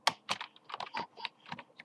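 Someone types on a computer keyboard to enter text in AutoCAD, producing a rapid, uneven run of crisp, close key clicks with no voices.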